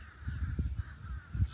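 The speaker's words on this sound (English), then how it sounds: "Sound like crows." Crows cawing around a residential neighbourhood with a retention pond in The Villages, Florida: a few faint, distant caws over quiet low outdoor rumble.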